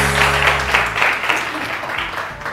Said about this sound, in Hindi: बहुत सारी तालियां मेरे मेहमानों के लिए